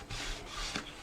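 Paper is burnished down onto a soft-spined folio with a short, soft rubbing stroke, close and quiet, lasting about a second.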